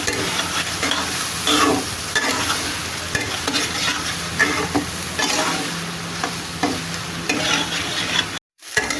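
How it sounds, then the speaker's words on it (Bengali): Teasel gourd and potatoes fry in a pan with onion, salt, turmeric and chili powder, a loud, steady sizzle broken by scraping stirs, with a brief silent gap near the end. "এখানে লবণ, হলুদ, মরিচের গুঁড়া, পেঁয়াজ আর কাঁকরোল আর আলু একসঙ্গে দিয়ে আমি ভাজা শুরু করে দিলাম।"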